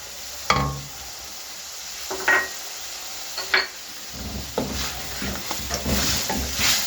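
Yogurt is stirred into sizzling dhaba-style chicken curry, giving a low background sizzle broken by several sharp spoon scrapes and knocks against the pot, close and fairly loud.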